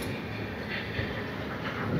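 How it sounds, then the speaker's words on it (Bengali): A train rolls past steadily at night beside the Farakka Barrage over the Ganges, a faint continuous rumble heard briefly from nearby. "ট্রেন যাচ্ছে।"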